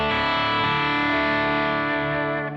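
A 2021 PRS Studio electric guitar with a low-output 58/15 humbucker plays a heavily distorted, chunky sustained chord with shifting notes inside it, loud and close, fading slightly at the very end with no talking.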